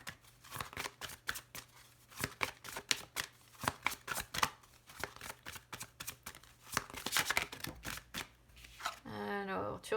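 Tarot cards are shuffled and cut in a continuous run of crisp riffling flicks and slaps for most of the stretch, ending in a brief rippling flutter.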